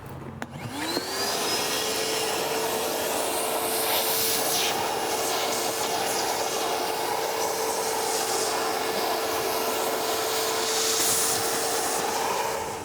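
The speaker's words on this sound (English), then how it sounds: "if you own a shop vac, it's not a necessary tool, but it could really speed up the process" A shop vac with a thin tip pulls dirt out of a dry-flow air filter, a steady loud whirring hiss that starts up and runs continuously, close by, with no voices.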